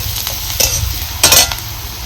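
Onion roasting in a pan gives a loud close sizzle, broken by two sharp bursts of scraping and spatter as it is stirred, with no voices.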